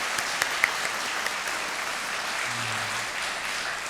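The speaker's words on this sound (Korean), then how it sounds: "우리 하나님께 영광의 박수 올려드리겠습니다" Steady applause from a church congregation following a worship team's praise song at a pastor's installation service, an even wash of clapping throughout with a few sharper claps standing out near the start and a faint low murmur later.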